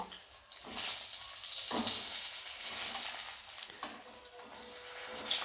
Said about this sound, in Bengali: এটার মধ্যে আমি আলুগুলোকে দিয়ে ভালো করে আলুগুলো আমি ভালো করে ভেজে নেব